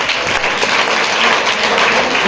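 An audience at a mushaira poetry gathering claps steadily, a dense, loud patter of many hands running throughout without a break.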